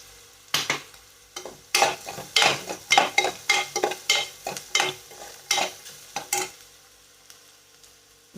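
Maggi noodles seasoned with turmeric and salt sizzle in a pan, stirred in a quick run of about a dozen scraping, clattering strokes up close before a quieter low sizzle settles in.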